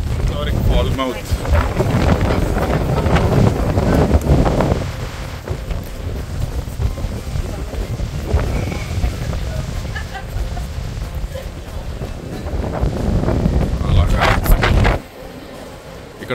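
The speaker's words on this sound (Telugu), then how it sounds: "ఈదర గాలులు ఉన్నాయి ఇక్కడ" Strong gusty wind at the seaside in Falmouth, Jamaica, buffets the microphone in a loud, continuous roar with rough swells, with waves breaking nearby and voices talking under it before it eases near the end.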